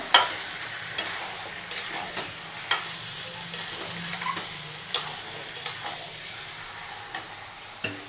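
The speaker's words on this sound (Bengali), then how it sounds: "এখন আমি আধা ঘন্টা ধরে কষাবো" Mutton curry with potatoes sautéed and stirred in a pan, a steady close sizzle of frying broken by repeated sharp clicks and scrapes of the spoon against the pan, with no talking.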